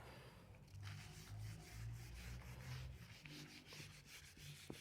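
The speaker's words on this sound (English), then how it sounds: "Rub these out for more space." Writing on a board is rubbed out with steady back-and-forth scrubbing strokes, close and faint, during a maths lesson with no talking over it.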